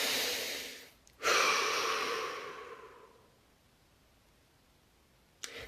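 A single deep breath taken during a quiet guided stillness session, a long soft airy inhale rising then fading out, close and alone with near silence after.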